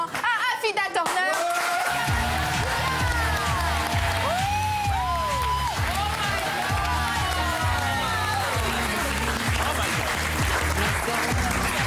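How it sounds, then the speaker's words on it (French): Studio audience applause and cheering greet a guest arriving on a French TV talk show, a dense steady roar of clapping mixed with loud music and voices across the whole stretch. "un tonnerre d'applaudissements à Afida Turner."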